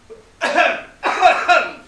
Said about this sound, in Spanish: Hay tos.